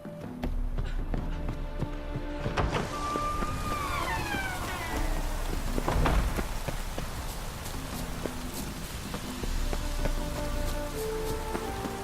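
Rain in The Witcher 3 game world falls as a soft, steady patter, with tonal bits of in-game sound and effects layered over it at moderate level.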